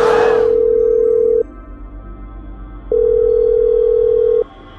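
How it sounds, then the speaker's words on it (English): A telephone line after dialing the emergency number 911 plays a brief burst of noise, then two long, steady ringing tones separated by a pause of silence, clear and alone. "I just dialed the number"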